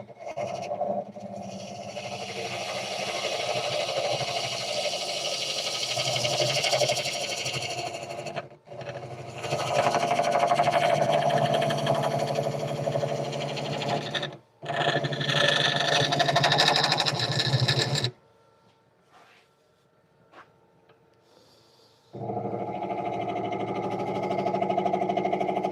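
A wood lathe spins while a roughing gouge rides the bevel on the turning piece, giving a steady humming whine that runs in long stretches, briefly cuts out twice, falls quiet for a few seconds and then resumes.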